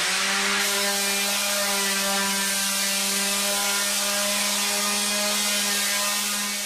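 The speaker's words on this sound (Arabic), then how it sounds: "هنبدا نصنفر الاول." A floor sander grinds over concrete ahead of an epoxy coating, a loud steady motor drone with a constant hum that holds throughout without talk.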